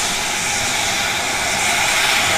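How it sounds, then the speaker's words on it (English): A former British steam locomotive on a heritage line blows off excess steam pressure with a loud, steady roaring hiss that runs unbroken and close throughout. "she's obviously got a little bit too much steam pressure and is blowing off"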